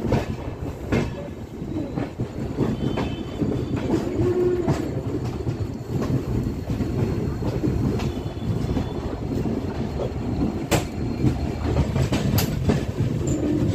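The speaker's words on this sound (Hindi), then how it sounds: "जर्नी स्टार्ट होते ही लखनऊ का WDM 3A लोकोमोटिव हमारा स्वागत करता हुआ" An Indian express train from Lucknow to Delhi, hauled by a WDM 3A diesel locomotive, rolls along with continuous loud rumble and rhythmic clickety-clack of wheels on rail joints, heard from inside a coach with no talk.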